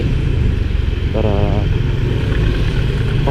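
A motorcycle engine idles and rumbles steadily while the rider parks, loud and close throughout, with a brief rising whine partway through.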